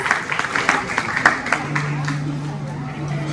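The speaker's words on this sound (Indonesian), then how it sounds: "Boleh kita kasih tepuk tangan?" Scattered audience clapping at a film poster and teaser launch event, a burst of claps that thins out under a low hum and murmuring crowd noise.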